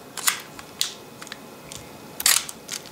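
Dry ratcheting clicks of the film advance being wound on a vintage 35mm camera, a few short bursts spaced unevenly, close and fairly quiet in a still room.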